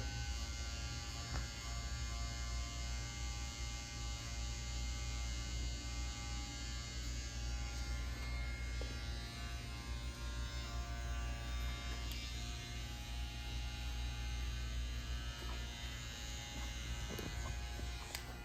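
Electric hair trimmers buzz steadily throughout, lining up the corners of a skin fade haircut, a close, continuous hum with small variations as the blades move along the hairline.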